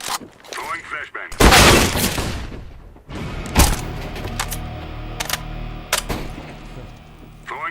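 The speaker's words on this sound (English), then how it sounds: "Throwing flashbang." Game sounds in CS:GO after a flashbang grenade is thrown: a loud bursting blast followed by several sharper cracks and impacts, close by, with background noise and talk.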